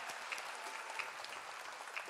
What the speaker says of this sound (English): So huge round of applause to Anna